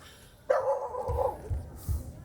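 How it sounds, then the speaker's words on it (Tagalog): A dog barks once loudly nearby, followed by a few softer barks or yips spaced over the next second and a half, with some faint speech-like sound around it. "May aso kasi."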